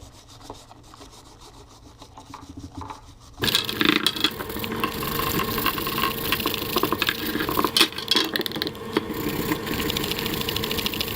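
A stiff bristle brush scrubs a cork fishing rod handle with soap. After a quiet start, loud, close, continuous rasping strokes go back and forth and keep going to the end.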